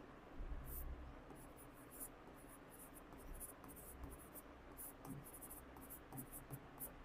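Chalk or marker writes on a board during a Class 12 physics lesson on moving charges and magnetism, faint scratchy strokes coming in short repeated bursts over low room hum.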